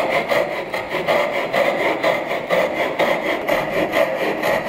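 A miter jack saw rasps through wood while cutting a tenon, a steady run of back-and-forth strokes with rhythmic rising and falling scrapes, close and fairly loud with no talking.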